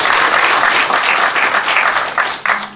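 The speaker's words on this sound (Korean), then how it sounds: "오신 여러분들께서 큰 박수 한번 주시기 바랍니다" An audience at a 2019 county residents' town hall meeting in Gwangcheon-eup breaks into steady, dense applause that fades out near the end.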